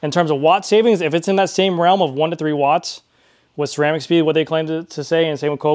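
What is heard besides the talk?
No distinct noise like a dog, phone or traffic.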